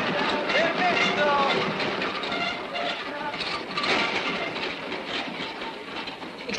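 A moving train rattles steadily along its rails with a continuous rumbling roar and faint rhythmic clatter, while people talk and call out nearby over the noise.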